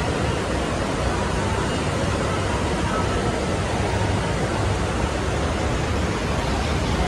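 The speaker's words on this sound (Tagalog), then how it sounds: "Grabe, malakas na yung ulan." Heavy rain heard from inside a moving Manila LRT train near Taft Avenue. A dense, even, broadband hiss holds steady throughout at moderate level, with no voices.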